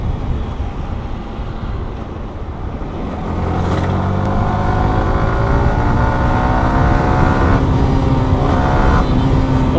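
A Yamaha R15M Carbon Fiber Edition 2025 motorcycle ridden in fifth gear, its engine droning loud and close with wind rush, the pitch rising steadily as it pulls harder.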